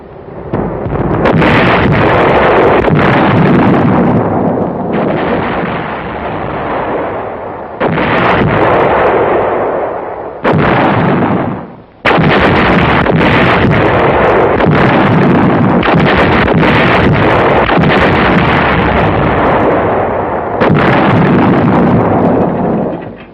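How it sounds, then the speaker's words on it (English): Artillery shells firing and exploding at the WWII Anzio beachhead in Italy, 1944, a loud continuous barrage of heavy booms and rumbling blasts with brief pauses, alone without talk. "there was the exchange of shells of varying sizes, weights, and types, fired out from and into the battered beachhead."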